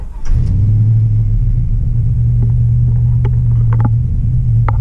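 An LS V8 engine fires up after a brief crank and settles into a steady, loud, close rumbling idle with a few faint clicks over it.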